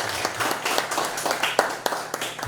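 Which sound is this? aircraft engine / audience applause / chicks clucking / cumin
audience applause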